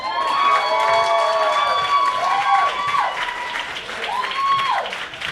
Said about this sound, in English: Let's clap it up now for Tiffany.